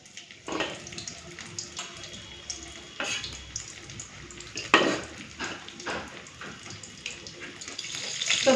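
Fish frying in hot oil in a pan on a gas stove turned down low: a steady, fairly close sizzle with scattered clinks and scrapes of utensils, and no talking.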